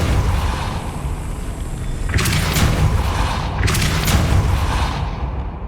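A Depulsor spell blast in the Hogwarts Legacy video game booms twice in heavy, loud bursts over a constant background rumble.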